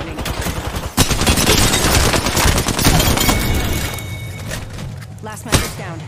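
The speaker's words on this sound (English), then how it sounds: "Being shot at. Getting shot at." Rapid gunfire rattles through a video game shootout, loud and nearly continuous bursts of shots and impacts with a voice talking over the action.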